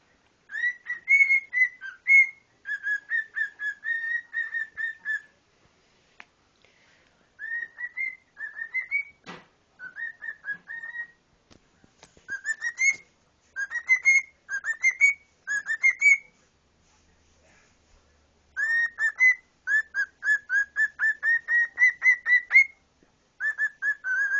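A pet cockatiel whistles and sings alone in a quiet room, with bursts of rapid, bright chirping phrases and rising whistled notes separated by short pauses, loud and close.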